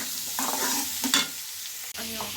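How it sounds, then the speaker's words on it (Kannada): Onions frying in oil in a pan for a pumpkin palya side dish, sizzling steadily while being stirred, with a few scrapes of the spoon against the pan, close and moderately loud, with no talking. "ಹಾಗೆ ಈರುಳ್ಳಿ ಎಣ್ಣೆನಲ್ಲಿ ಸ್ವಲ್ಪ ಫ್ರೈ ಮಾಡೋಣ ಆಯಿತಾ"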